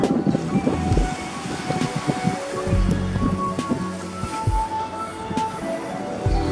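Strong offshore wind gusting at a surf beach, a steady rushing roar mixed with low buffeting rumbles and the wash of small waves, with no voices.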